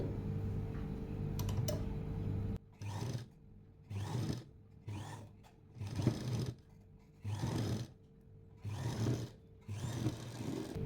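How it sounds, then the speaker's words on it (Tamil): A sewing machine stitching a kurti sleeve runs in repeated short bursts of whirring, about seven runs separated by quiet pauses, close and clear with no talk. "இப்போ இன்னொரு தையல் இந்த ஓரத்தில் இப்படி போட்டு விட்டுருவோம்"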